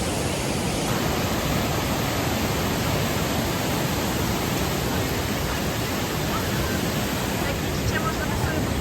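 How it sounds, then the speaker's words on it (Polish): Waterfall on Don Det island in Laos, a loud, close, continuous broadband rush of falling water that stays steady throughout, with faint voices underneath. "Doszliśmy do wodospadu"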